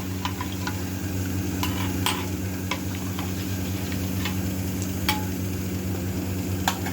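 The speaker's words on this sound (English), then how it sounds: "Stir it nicely" A spoon clinks and taps against a vessel while black and white salt are stirred into water for panipuri, sharp scattered ticks over a low steady hum.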